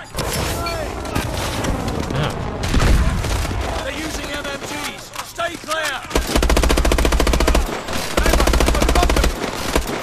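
Loud, sustained light machine gun fire in the Call of Duty Advanced Warfare campaign mission Traffic, rapid bursts with booming impacts, under and between shouting voices.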